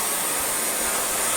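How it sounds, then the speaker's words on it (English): A vacuum cleaner running at full power, a loud, steady, broadband rush of airflow with a high whine, continuous and close with no talking. "Listen, the air flows louder than the vacuum itself."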